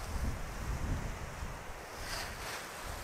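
Strong wind buffets an open mountainside during a solo autumn mule deer hunt in Colorado, a steady low roar and rush with gusts that swell and ease, close and loud against the microphone, with no talking.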